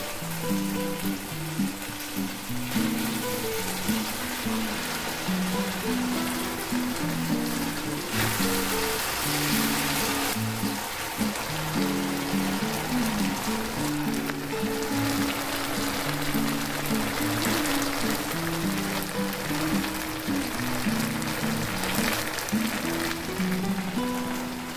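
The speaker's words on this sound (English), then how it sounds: "Fry for 3 minutes on medium flame. Turn the fish." Fish kababs fry in oil on a medium flame, a steady, close sizzle that holds at the same level throughout with no talk.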